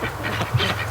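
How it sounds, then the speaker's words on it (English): Bush ducks quacking in a short burst of several nasal calls close by, loud and quick, with no talking. "my ducks, they're so cute."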